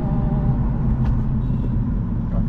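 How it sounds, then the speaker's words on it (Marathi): Road traffic on a congested single-lane street near the temple in Rameshwaram, a steady low engine rumble from passing vehicles heard from inside a moving car, with no voices over it. "थोडं ट्रॅफिक वगैरे असतं मंदिराच्या इकडनं"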